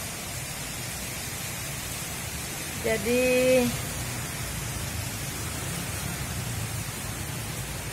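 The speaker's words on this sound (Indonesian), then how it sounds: "kondisinya juga sedang hujan" Rain falling on a quiet, empty narrow alley street, a steady, even hiss throughout, with a single brief spoken word in the middle.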